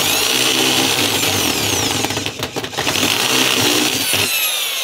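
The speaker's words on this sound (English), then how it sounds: "I shall get out the real drill" A corded power drill whines loudly and continuously while drilling a metal cash box, briefly bogging down midway before spinning back up, then cutting off.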